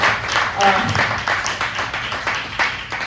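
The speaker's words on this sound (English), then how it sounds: "please round of applause for them" An audience claps for performers at a small music show, with moderate scattered clapping heard under a speaker's voice throughout.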